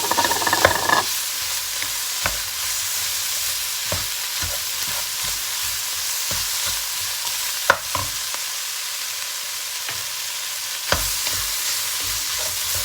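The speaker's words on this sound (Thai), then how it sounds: "แล้วเราก็จะคลุกเคล้านะคะ ให้เข้ากันเนาะ คือก็จะใส่เห็ดลงไปเลยนะคะ" Pork belly and mushrooms are stirred in a hot pan, giving a continuous loud sizzle broken by scattered scraping clicks from the utensil, with no talking.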